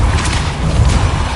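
A Depulso spell cast in Hogwarts Legacy lands as a dull, booming thud with a rumbling low-end burst, loud and dense, filling the whole short moment with no voices over it.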